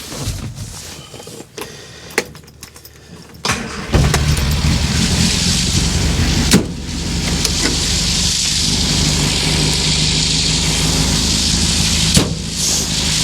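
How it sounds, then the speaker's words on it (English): A Riley Kestrel 1300 car engine idles steadily at close range, with a low continuous hum settling in after a few seconds of clunks and rattles from the start-up. "it's actually idling okay"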